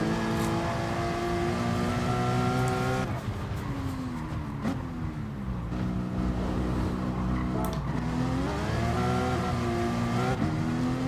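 A Corvette race car in GT Sport practice roars steadily, its engine pitch climbing and dropping through gear changes and throttle lifts, loud and continuous with no talk.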